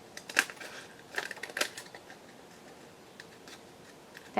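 Paper being cut away from around a card shape, heard as a few quiet, crisp snips in short clusters with near-silence between them.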